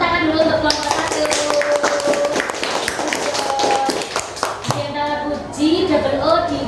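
A classroom group claps to applaud the first presenting team at a school coaching session, dense broadband clapping running throughout alongside children's voices and an adult speaking over it.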